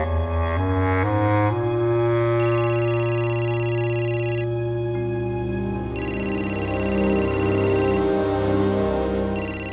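A phone ringtone plays loudly and continuously, its bright electronic melody repeating in bursts over a sustained tonal backing.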